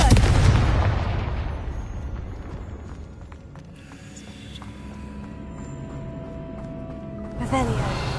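An explosive fire spell goes off in Hogwarts Legacy, a loud booming blast at the start that rolls into a long crackling, rumbling decay with scattered game effects, a second burst near the end.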